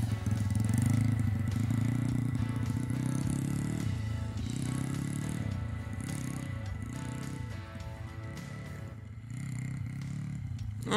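A Yamaha DT125 or Kayo 140 motorcycle pulling away as the clutch is released, the engine note revving and rattling with uneven throttle pulses, heard fairly close and fading slightly toward the end.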